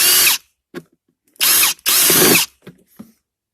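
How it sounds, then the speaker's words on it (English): Three loud bursts of a power drill whirring as it bores a hole in a peanut jar for a birdfeeder, separated by short pauses, with a few small clicks and taps between them. "I'm going to chose a drill bit that's about the size of the diameter wire."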